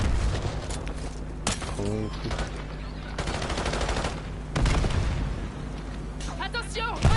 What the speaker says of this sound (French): il y a des snipers de partout, c'est dingue. Ils snipent tous les gars.